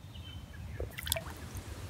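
A green frog splashes into a pond, a brief, small watery plop about midway through, set against a low, steady outdoor background rumble.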